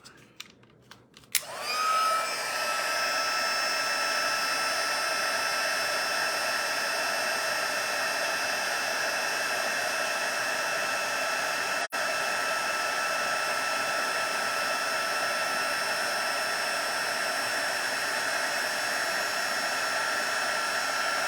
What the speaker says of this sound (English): heat tool. And we are going to heat this up.